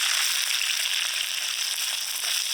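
Chopped onions hit hot mustard oil in a wok already holding dried chili, bay leaf, whole cumin, cardamom and cinnamon, giving a close, loud, steady hissing sizzle with no talking.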